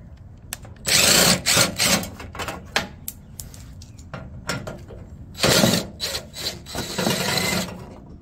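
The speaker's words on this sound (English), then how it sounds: "I'm going to go ahead and take off the bolts from my license plate." License plate bolts on a 2002 Toyota MR2 being removed with a power tool, heard as short whirring bursts and rattling mechanical clatter in an irregular rhythm, close and fairly loud with no speech.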